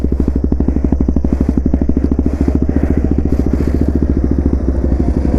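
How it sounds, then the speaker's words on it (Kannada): Restored motorcycle revving and idling without a dB killer in the exhaust, a loud, close, rapid rhythmic popping and throbbing beat that stays steady throughout, with no talking. "ಇದು without D B killer sound ಬರುತ್ತೆ"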